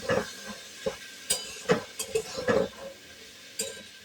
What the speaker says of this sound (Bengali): ঢাকাটা খুলে আরেকবার নেড়ে দিলাম